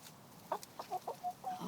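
Cartoon chicken clucking in the animated Chicken Little, a quick run of short, close clucks lasting under two seconds.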